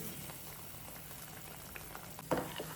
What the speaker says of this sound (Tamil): உப்பு வந்து சேர்த்ததுக்கப்புறம் இந்த தண்ணி வந்து நல்லா பபிள்ஸ் வர மாதிரி கொதிக்கணும்